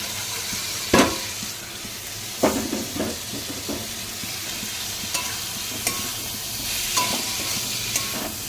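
Steady sizzle of grated coconut frying in a pan, with a spatula scraping and stirring every so often, clicking against the metal.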